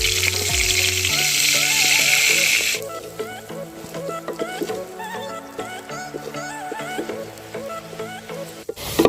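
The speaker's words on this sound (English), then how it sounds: "So I'll go ahead and add in the onions." Onions frying in a pan over a Kenyan village cooking fire give a loud, dense sizzle for the first few seconds. The sizzle then fades into a quieter, crackling background beneath melodic sounds.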